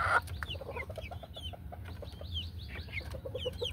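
Native Bisaya chickens cluck in a quick, even series of short calls, with scattered higher chirps over a low background hum and no talking.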